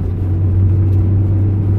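A Nissan Pulsar N16 1.8 hatchback engine runs with no exhaust fitted, only headers. It makes a steady, loud, deep droning rumble close by, with no talking.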